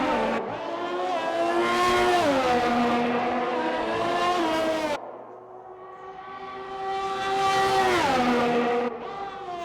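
A Formula One race car on a hot lap at the Dutch Grand Prix in a racing video game, engine screaming loud and close, rising through the gears, dropping sharply on a shift, then climbing again.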